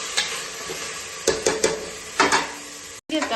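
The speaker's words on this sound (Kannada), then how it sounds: "ಬೀನ್ಸ್ ಹಾಕ್ತಾ ಇದ್ದೀನಿ ಇದಕ್ಕೆ. ಚೆನ್ನಾಗಿ ಹುರ್ಕೊಳ್ಬೇಕು." Beans frying in a pan with a steady sizzle, broken by several scraping stirs of a spoon or spatula against the metal, close and moderately loud, with no talking.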